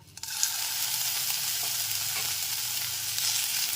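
Ginger paste hits hot oil with tempering spices while cooking a vegetarian bottle gourd ghonto, bursting into a loud sizzle that settles into a steady, bright frying hiss.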